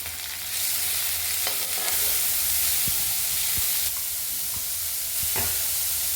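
Steady sizzling of onions, green chilies and curry leaves frying in a hot pan, with occasional clinks of a utensil stirring, close by and without speech.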